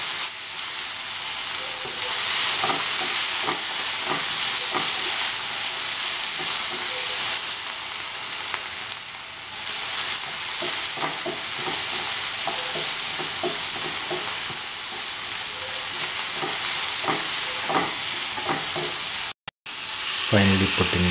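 Tomato and salt frying in a pan with sauteed vegetables while being stirred: a steady loud sizzle and hiss with repeated scraping stir strokes throughout, close and continuous.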